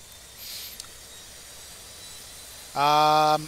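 Auxiliary power unit of an Airbus A320 in the X-Plane flight simulator starts up, a steady hiss with a bright harmonic whine that switches on loudly near the end after a quiet background.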